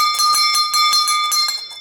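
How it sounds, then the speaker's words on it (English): A large, well-made antique bell with an ornamental brass piece on top rings alone in repeated clear, sustained strokes, its bright overtones hanging steadily between strikes. "It's just a much bigger, well-made bell."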